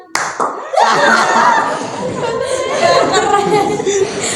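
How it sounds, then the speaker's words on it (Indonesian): An audience at a school coaching session claps together in a group clapping game, a dense burst of hand claps mixed with laughter and chatter that starts abruptly and carries on loudly throughout. "Oke, tepuk tangan untuk kita semua."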